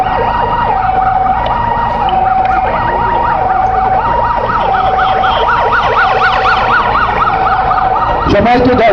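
An ambulance siren wails loudly close by in a repeating rising and falling pattern over the deep rumble of a heavy vehicle, near an airfield where a patient is brought to a helicopter.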